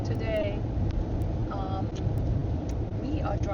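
A car drives through rain on the road to Whittier, Alaska, with a steady low road and engine rumble and faint higher hiss throughout, while voices talk over it.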